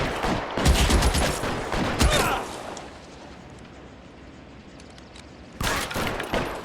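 Gunshots in the video game L.A. Noire, a cluster of sharp rapid shots up front, then a quieter lull of fading echo, and another burst of fire at the end, with a voice briefly heard.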